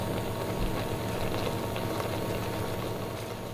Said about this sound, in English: we're just going to bring that to the boil and allow it to simmer for around 3 minutes